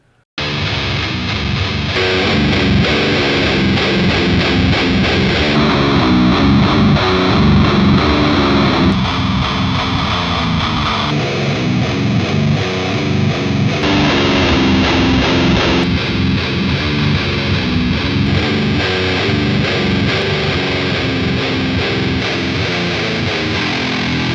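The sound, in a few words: distorted guitar through amp cab simulations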